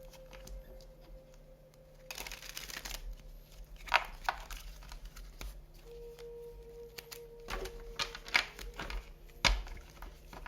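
Playing cards are shuffled and riffled in several quick, faint bursts of papery flutter and tapping, close by over a quiet background hum.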